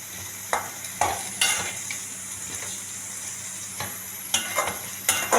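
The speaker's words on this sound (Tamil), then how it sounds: "இப்படி அப்படியே நல்லா ரோஸ்ட் ஆகி வந்துடும் நமக்கு" Potatoes roasting in oil in a pan make a steady sizzling hiss, broken by several sharp scraping stirs of a spoon against the pan.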